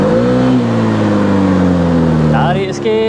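An Aveta Viper 180 scooter engine revs up loudly nearby, pitch climbing smoothly, then drops and catches again with a brief blip at the end.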